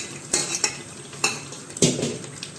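Kidney beans stirred into gravy in a large pot for rajma, several separate scraping, clinking strokes of a spoon against metal over a low simmer, nearby with no talking.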